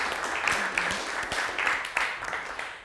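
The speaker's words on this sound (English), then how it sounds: "I think a round of applause for all of our partners in this room who have been with us for 2 years." An audience at a daytime leadership event applauds its partners, with scattered, uneven clapping that rises and falls in bursts, moderately loud, and no clear speech over it.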